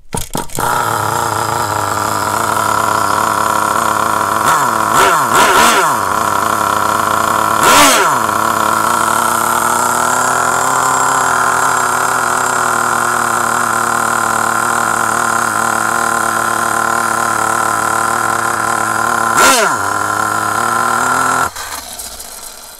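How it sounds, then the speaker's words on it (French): A small RC nitro engine idles steadily with a buzzing drone, briefly blipped a few times, then cuts off near the end. "un moteur qui tient le ralenti"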